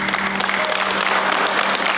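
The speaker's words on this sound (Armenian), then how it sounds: "Մի հատ ուզում Լենային ծափարենք" A studio audience at a game show claps for Lena, a dense burst of applause from many hands, loud and sustained with no voices over it.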